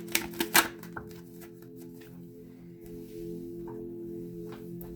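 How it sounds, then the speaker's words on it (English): Tarot cards being pulled from a deck, heard as a quick run of crisp, close card snaps and flicks in the first second, followed by a low steady hum. "Let's just pull the rest of your cards out"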